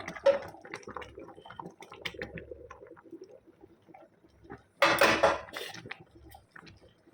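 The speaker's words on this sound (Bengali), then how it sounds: "এবার আমি ওই আমুল দুধটা দিয়ে দিচ্ছি।" Amul milk pours into a steel pot of warm water in a home kitchen while making carrot halwa, with light clinks of the pot before a loud, close pouring splash midway through.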